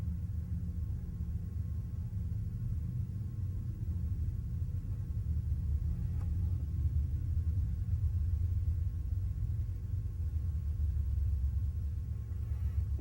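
Motorcycles rumble by in the distance on a fine day, a low, steady, thunder-like drone that holds for the whole stretch with no talk over it.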